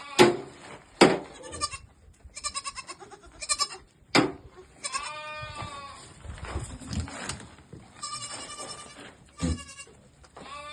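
Goats and young kids bleating in Shymkent, Alpine and Dutch Saanen-cross stock, a series of loud, close, wavering bleats from several animals in separate bursts with short quiet gaps.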